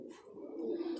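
A Rampur pigeon gives a single low, soft cooing call close by, with a gentle rolling tone and a faint hiss in the background.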